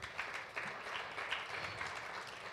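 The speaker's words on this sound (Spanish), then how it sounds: "un fuerte aplauso al Señor por nuestras ofrendas" Church congregation applauding during a Spanish-language Sunday service, a faint, distant wash of steady clapping lasting a couple of seconds.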